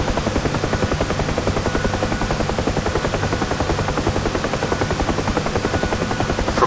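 UH-1 Huey helicopter in flight in the DCS World simulator, a steady rapid rotor thump over a dense turbine whine, continuous and loud throughout with no talking.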